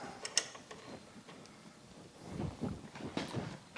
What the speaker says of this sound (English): I'll tighten these nuts down.